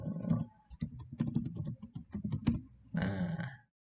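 Quick bursts of keystrokes on a computer keyboard while filling in a Google Form, close and clear clicks in uneven clusters with a short pause near the end.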